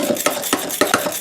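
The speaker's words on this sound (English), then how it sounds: "So this is our Yankee egg beater for our Swamp Yankee cooking." A hand-cranked Yankee egg beater whirs and clicks steadily in a bowl, with a regular pulsing rhythm of about four beats a second, close and fairly loud, with no one talking.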